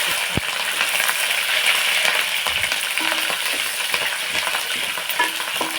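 Chopped onion and green chillies fry in ghee and oil in a pan, giving a bright steady sizzle, with occasional stirring clinks and scrapes close by.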